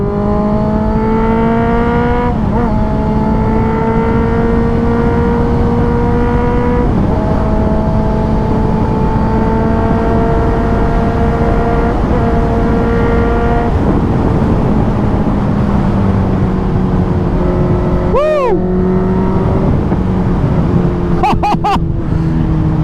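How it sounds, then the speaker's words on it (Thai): A 2018 Honda CB650F with a slip-on exhaust drones loudly and steadily with shifting revs, and near the end a few sharp exhaust pops and backfire cracks break through. "เป็นไรไม่รู้ชอบเสียงท่อรถระเบิดนะ"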